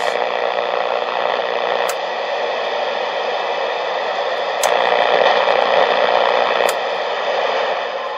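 Steady broadband hiss of static from a vintage Hammarlund Super-Pro Series 200 shortwave receiver runs throughout, with a few sharp clicks or pops cutting through at intervals.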